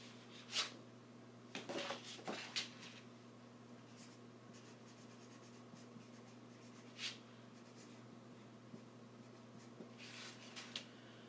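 A pen scratches across the back of a round chalkboard in a few quick strokes, then pauses and squeaks briefly again later, quiet and close against a steady electrical hum.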